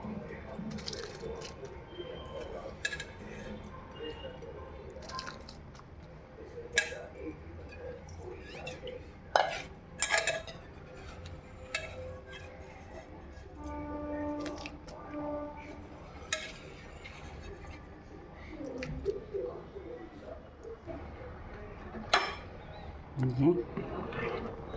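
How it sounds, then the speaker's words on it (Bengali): Rice poured into milk in a cooking pot on a home kitchen stove, heard as soft pattering and scattered clinks of a utensil against the pot, sparse and fairly close, with a voice talking over parts of it. "চাল দিচ্ছি বন্ধুরা, এখন ফুটবো চালটা"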